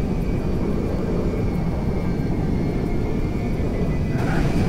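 A C-5M Galaxy military transport plane coming in to land in GTA 5, a steady loud engine roar and rumbling drone that holds throughout with no talking.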